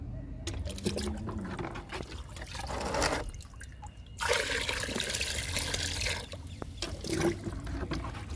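Liquid splashes and trickles into a 20-litre bucket of water in quiet, uneven gurgles, with soft handling noises between pours.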